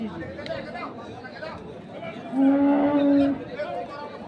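A bull lows once with a long, loud moo amid the murmur of a busy cattle market, while people talk and chatter nearby throughout.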